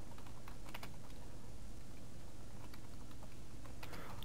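Rapid clicking keystrokes on a computer keyboard while code is entered, quiet and close-miked, in irregular bursts over a steady background hiss.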